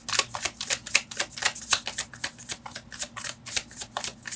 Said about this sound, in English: so I'm just gonna get another card.